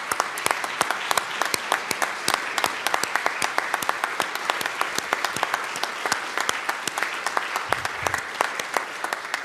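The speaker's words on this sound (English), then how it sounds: "Shall we give these folks a round of applause before they sit down?" A crowd in the Colorado House of Representatives chamber gives a round of applause, sustained dense clapping from many hands that stays steady and loud throughout.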